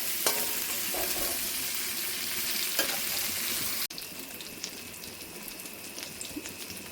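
Eggplant frying in lightly spiced oil sizzles loud and close in a steady hiss, with faint stirring clicks. Partway through it abruptly drops to a softer crackle, and no one speaks.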